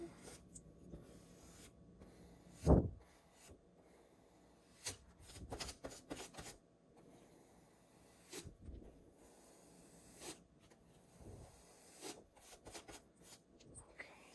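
A paintbrush moves over a Thanksgiving door hanger in faint, soft brushing and rubbing strokes. Quiet, scattered scuffs and one brief louder knock break the strokes, and nobody speaks.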